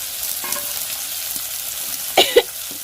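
Ginger, garlic, onion and tomato sautéing in a pan: a low, even sizzle with a couple of quick utensil clinks near the end.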